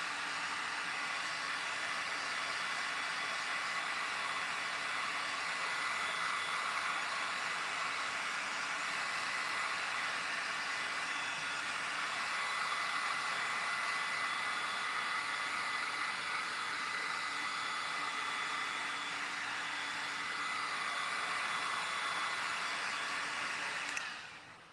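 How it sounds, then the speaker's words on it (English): A handheld heat tool blows hot air steadily to dry adhesive on a craft picture mat, a continuous, even whooshing hiss held for about twenty-five seconds before it cuts off. "I'm gonna use my heat tool to dry this and make sure it's adhered"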